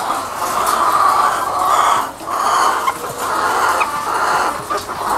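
Dekalb White laying hens fill a poultry house with continuous, loud, overlapping clucking and murmuring from a large flock, swelling and dipping slightly, with no talking.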